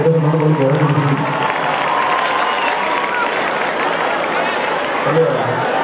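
A live audience applauds steadily for Spyros at a festive gathering, a dense roar of clapping with crowd noise throughout, while voices speak over it at the start and end.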